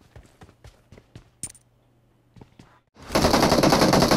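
PUBG Mobile gunfire: a string of sharp, evenly spaced shots rings out up close, a short pause follows, then a dense, loud burst of sustained automatic fire closes the moment.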